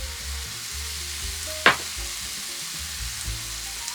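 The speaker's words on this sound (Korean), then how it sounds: "간장 반스푼을 넣고 눌러붙지 않게 중약불로 볶아주세요." Rice stir-frying with ssamjang, sugar and soy sauce over medium-low heat, a quiet continuous sizzle broken by one sharp utensil knock against the pan, with no voices.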